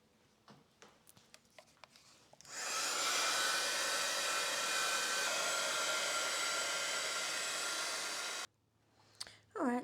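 A hair dryer blasts steadily for about six seconds to dry a watercolour paint brush, a loud close whoosh that switches on abruptly and cuts off, with light taps before and after.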